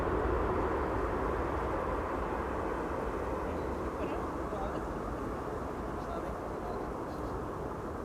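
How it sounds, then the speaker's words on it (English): An Airbus A380 landing with idle reverse thrust gives a broad, steady roar that fades slightly as it rolls out, heard from a distance. "A380 doing a KLM style landing"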